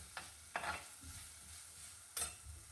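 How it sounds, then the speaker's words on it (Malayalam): Ingredients for a dried fish curry are sautéed in a pan, with a faint hiss and a few short scraping strokes of a spoon against the metal, quiet and close. "എല്ലാം കൂടെ നന്നായിട്ട് വഴറ്റിയെടുക്കാം."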